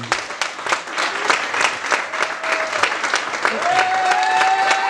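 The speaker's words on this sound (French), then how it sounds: "je voudrais juste qu'on l'applaudisse" Loud, dense applause from a crowd at an evening charity event for a girl named Camille, many hands clapping steadily throughout with a few voices rising faintly in the background.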